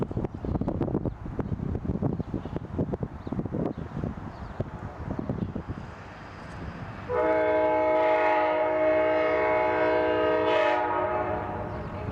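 A loud train horn blares steadily for several seconds, following rumbling wind-buffeted rail noise as the Amtrak Southwest Chief passenger train rolls in close by.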